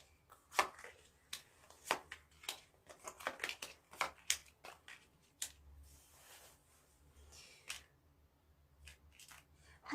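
Tarot cards being shuffled and handled in a quiet room: a run of crisp, close riffling snaps and taps, irregular and clustered early, thinning out later, with no voice heard.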